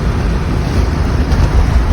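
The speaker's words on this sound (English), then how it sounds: "Now we're having some wind today." Strong wind in a 100 km/h storm on Cape Sable Island, Nova Scotia, roars against a car window as a dense, loud, buffeting rumble right at the microphone, unbroken from start to finish.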